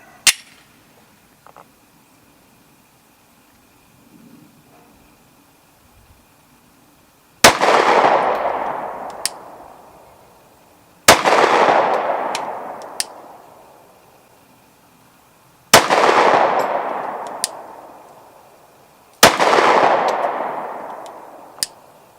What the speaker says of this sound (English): the Glock 43 that I'm shooting today has the standard 2 mags with it